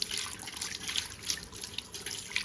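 Running tap water splashes steadily as hands are washed under it, close and continuous with small irregular spatters and no talking.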